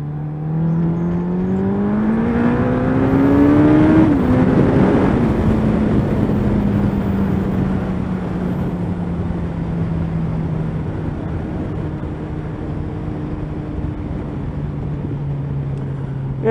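A Suzuki Hayabusa motorcycle engine runs steadily, swelling briefly to a higher rev then settling back to a low drone, with wind noise over it.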